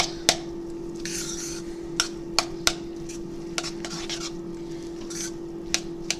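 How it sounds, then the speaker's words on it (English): A spoon stirring food in a pot, with sharp metallic clinks and taps against the rim at irregular intervals over a low steady hum, fairly close and moderately quiet. "So I'm going to stir this up."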